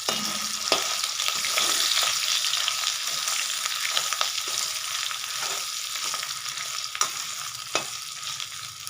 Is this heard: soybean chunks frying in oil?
yes